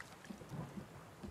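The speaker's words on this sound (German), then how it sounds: "Schön, dass es regnet." Rain and rumbling thunder inside the survival video game The Forest, a steady, fairly faint wash of falling rain with low rolling thunder beneath, no voices.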